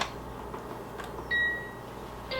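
A Cuckoo Korean multi-cooker gives a short electronic beep melody after the cook button is pressed, with clear tonal notes rising over a quiet kitchen hum.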